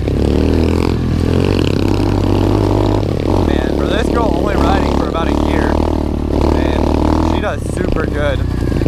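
SSR 125 pit bike ridden along a technical, rocky trail: a loud, close engine drones and revs continuously, with gravel scrapes and clatter throughout and a voice talking over it.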